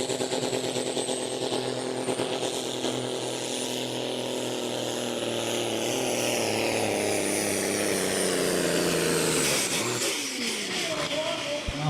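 Pulling tractor Sound of Dynamite roaring through a run at a tractor pulling event in Putten, its engine running rough and short of RPM; a loud, sustained drone with a harmonic pitch that sags near the end.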